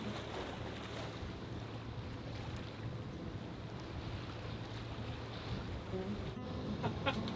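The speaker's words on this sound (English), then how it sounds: "The water's turbulent." Turbulent water surges and sloshes around a sailing boat under way at about seven knots, a constant churning wash mixed with wind buffeting the microphone.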